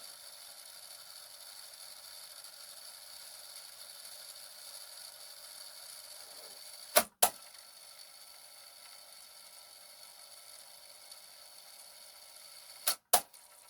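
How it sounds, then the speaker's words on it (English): Sharp Optonica RT-5200 cassette deck in music-search mode, tape hiss running steadily before two pairs of sharp mechanical clicks, around the middle and near the end, as the transport finds a gap and switches to rewind. "it's found a gap in the song, rewinds"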